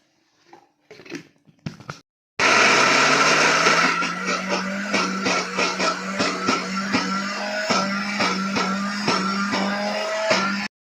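A few light clicks come first, then an electric grinder starts up loudly on cooked chana dal with milk. Its motor whine climbs steadily while the dal rattles and thumps in rhythmic pulses until the grinder cuts off abruptly.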